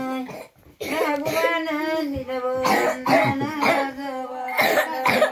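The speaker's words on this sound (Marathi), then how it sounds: "खोकायला काय झालंय" Someone coughs in several sharp bursts, mixed in with voiced, tonal speech.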